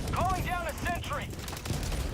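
Sentry turret in Helldivers 2 firing rapid bursts of automatic gunfire amid ongoing game noise, fairly close and loud over roughly two seconds.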